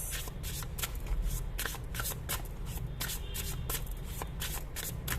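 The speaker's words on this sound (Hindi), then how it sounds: "दो कार्ड्स में और निकालूंगी ताकि हमें क्लैरिटी और अच्छे से मिल सके।" Tarot cards being shuffled by hand, a rapid run of crisp riffling flutters close to the ear, steady and continuous with no speech.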